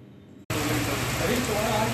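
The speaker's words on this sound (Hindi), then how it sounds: "काफी दिनों के बाद हुई बरसात से लोगों ने राहत की सांस ली।" Steady rain falling after a long dry spell, a dense even hiss that cuts in abruptly after a brief quiet moment and continues strongly, with no voices.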